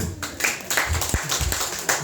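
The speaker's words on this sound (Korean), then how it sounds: "축하의 박수" A church congregation at a Sunday service claps in congratulation for a student's university admission. The clapping is uneven and moderately loud, with individual claps standing out through it and a faint murmur underneath.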